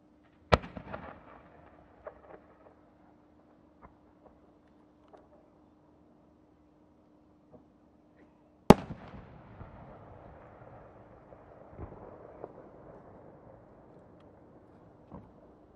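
Blinking star-shell fireworks by a Japanese fireworks maker at an Omagari winter display: two sharp, loud bursts a few seconds apart, each followed by a long, crackling, fizzing tail of scattered pops.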